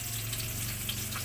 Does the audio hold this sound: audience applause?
no